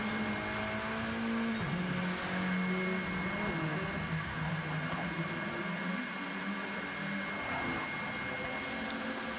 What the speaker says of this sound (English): Michael Willicott's going to be sick of the droning sound of that Suzuki Swift.